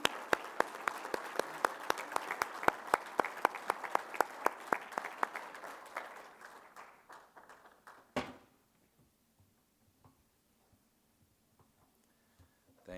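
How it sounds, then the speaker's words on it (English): Audience applause at the Utah County State of the County address, steady clapping from a large crowd for about eight seconds before fading to a few scattered claps and near silence. "Round of applause for that."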